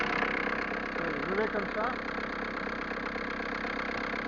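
Ford Transit turbo diesel engine idling, a steady low rumble running evenly under someone talking briefly at the start.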